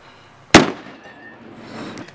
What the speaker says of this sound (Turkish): Ne zamandır torpil patlatmıyoruz ya.